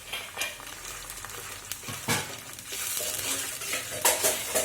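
Grated tomatoes, four of them, being stirred into vegetarian keema in a pan, with a spoon scraping and clinking against the metal over a soft sizzle, close and steady throughout.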